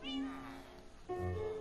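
Two pet cats meow in Minecraft, one drawn-out meow followed by a second, louder meow after a short pause, both close and clear.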